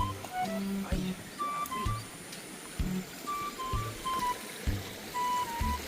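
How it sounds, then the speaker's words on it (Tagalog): Stream water runs at a river crossing in the Philippines, giving a steady close rushing wash with repeated soft knocks and faint engine-like tones threading through, with no talk. "Ito dito tayo dadaan sa tawidan na ito, tubig na ito."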